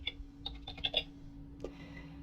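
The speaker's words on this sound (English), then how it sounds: "Let's type here Nikto." Typing on a computer keyboard: a quick run of faint, close key clicks over about a second, then one more tap after a pause, over a low steady hum.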